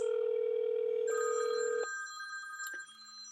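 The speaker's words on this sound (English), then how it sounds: "I'm calling Chris's phone directly back just by dialing 1 from that prompt." A telephone ringback tone sounds steadily during an outgoing call, then switches to other electronic tones and beeps. It is clear, with no talk.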